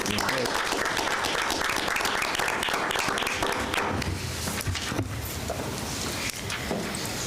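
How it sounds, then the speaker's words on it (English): Audience applause at a high school board of education meeting fills the room as a continuous patter of many hands clapping, steady throughout and fairly distant, with a slight drop partway through. "How about a round of applause?"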